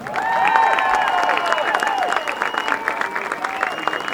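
A stadium crowd at a Watertown Arrow sports game applauds a 2019 athletic Hall of Fame inductee, a dense sustained wash of clapping with scattered cheers and whistles, loud and steady throughout.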